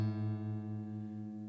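A guitar note deliberately tuned off pitch to about 425 hertz rings steadily and close, slowly fading with a slight wavering pulse. No one speaks.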